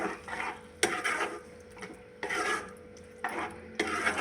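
Half a cup of yogurt goes into a pan of okra curry, producing a close scraping and scooping sound with short sharp clatters at repeated intervals and no talk.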